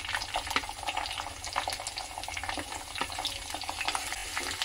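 Chopped onion frying in hot oil with bay leaf, star anise, cardamom and a small piece of cinnamon, for a spicy dry chicken dish; a steady, fairly quiet sizzle with crackle runs throughout, with no talk.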